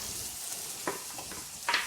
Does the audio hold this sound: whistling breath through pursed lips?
no